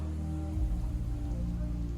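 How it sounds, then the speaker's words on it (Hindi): Heavy rain pours down in Madinah near Masjid al-Nabawi, a continuous dense wash of falling water with low rumbling underneath, steady throughout. "ये देखिए फिर से इतनी तेज़ बारिश स्टार्ट हो गई है।"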